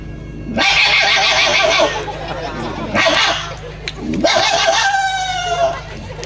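A folk performer at a village fair vocally imitates dogs barking: three loud, drawn-out yelping cries with wavering, falling pitch, separated by short pauses.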